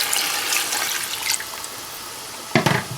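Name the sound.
water being poured into a cooking pot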